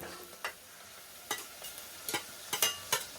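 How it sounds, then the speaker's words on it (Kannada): Fenugreek leaves tossed into a pan of mint and coriander for menthya bath, with a faint background sizzle and several sharp scraping stirs spaced through the moment, no one speaking. "ಈಗ ಮೆಂತ್ಯ ಸೊಪ್ಪನ್ನು ಹಾಕಿ."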